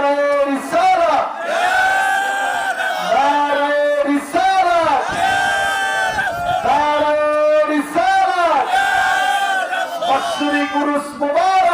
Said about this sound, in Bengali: আল্লাহকে একটু স্লোগান দেন, নারায়ে তাকবীর, আল্লাহু আকবার